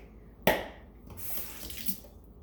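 A kitchen sink tap gushes briefly with a sharp splash as a sauce pan is set in, followed by softer water splashing and trickling at close range, with no talking.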